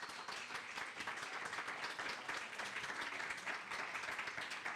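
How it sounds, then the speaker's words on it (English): Steady audience applause at a 2022 candidate forum for the 16th Middlesex District, a dense, even wash of many hands clapping that holds at moderate level for the full span with no talk over it. "Can we give a round of applause to all the candidates?"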